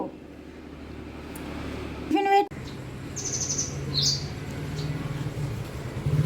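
A small bird gives a few quick, high chirps, fairly faint, over a low background hum of traffic, with a brief clatter before.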